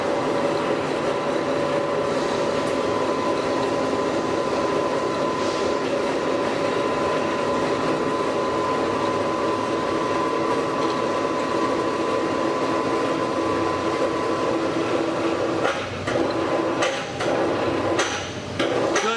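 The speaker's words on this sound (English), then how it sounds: "Ken is going to use the up control button now to pan the cable back onto the drum" A Maxial winch reeling its cable back onto the drum, running as a steady mechanical drone with a rattling, clanking texture throughout and a few sharper knocks near the end, with no talk.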